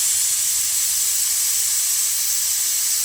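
A pressure cooker of boiled green maize, just off the stove in a village kitchen, vents steam in a loud, steady, unbroken hiss that runs close and alone throughout.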